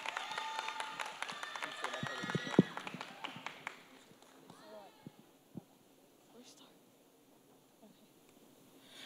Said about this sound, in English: can we give a round of applause for the first speaker for the negative team?